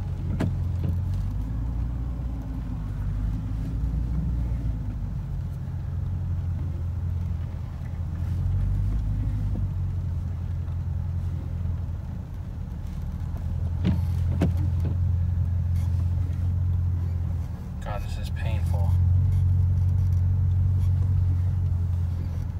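A car engine and exhaust rumble steadily at close range while cruising onto a freeway, the low drone swelling and easing in long surges with a brief rise in revs near the end.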